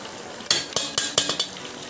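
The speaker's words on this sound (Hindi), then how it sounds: "बिरयानी के लिए बड़े बड़े पीसेस में टमाटर काटे जा रहे हैं" A knife cuts tomatoes into large pieces for biryani on a board, six or seven sharp chopping knocks in an uneven rhythm, close and clear with a faint kitchen background.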